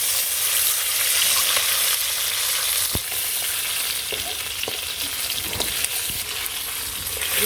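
Eggs sizzle and fry in a pan on a village kitchen stove, a loud continuous crackle broken by scraping clicks as they are stirred, with no voices.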